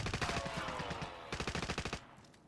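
Rapid automatic gunfire rattles through a video game firefight, a dense burst followed after a short gap by a second volley of distinct shots, fairly close and alone.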